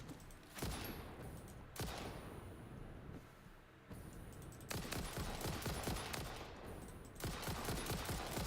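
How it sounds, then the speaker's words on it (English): Rifle fire in the game Satisfactory comes as dense rapid volleys that repeat in several long bursts with short pauses between, fairly loud and alone. "now we switch to the rifle"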